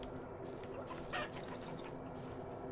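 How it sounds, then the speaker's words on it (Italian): Chickens in the horror survival game Darkwood cluck faintly among a steady ambient hum, with a short, slightly louder squawk near the middle. "Guardate quante galline."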